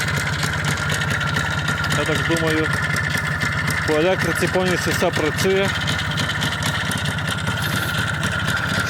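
A small Minsk motorcycle with a replaced engine idles with a steady, close putter while someone speaks over it.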